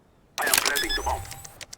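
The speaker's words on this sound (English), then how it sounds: "I am planting the bomb." A bomb being planted in the CS:GO video game: a sudden, close mechanical burst that starts abruptly and runs for over a second before tailing off into a few faint clicks.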